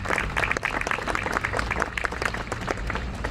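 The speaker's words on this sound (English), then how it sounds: "if we could give him a round of applause" Audience at an outdoor bridge dedication ceremony applauds in a dense, continuous burst of clapping, fairly close and steady throughout with a murmur of voices mixed in.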